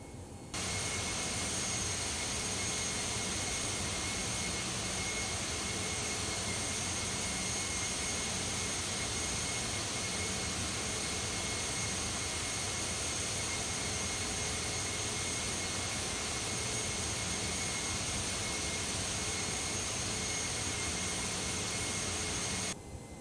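Airbus A319 jet engines in the X-Plane 11 flight simulator during descent toward Innsbruck, a steady loud cabin-level roar with a thin high whine held constant and unbroken throughout.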